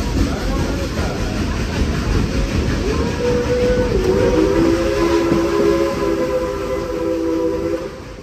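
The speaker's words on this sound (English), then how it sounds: "Now, as the train first pulls out" A steam locomotive rumbles steadily close by as it pulls out at Dollywood, its heavy, continuous roar carrying high whistle-like tones that rise and hold.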